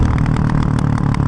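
Yamaha Raptor 700R quad's exhaust drones steadily up close, a loud, even engine note with a pulsing low rumble and no voices.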